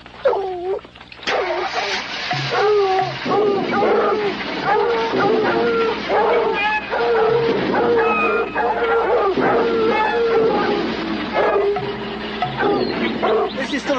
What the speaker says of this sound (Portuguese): Nós temos cães.